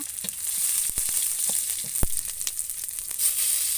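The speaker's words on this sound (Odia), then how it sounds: "ମାଛ ମୁଣ୍ଡ ପକା ହେଲା। ଏଇ ଭାଜି ଦେବେ ଭଲସେ ନା।" A fish head fries in hot oil with dried chillies and onion for a curry, a continuous close crackling sizzle with scattered sharp pops and spits, with no talking.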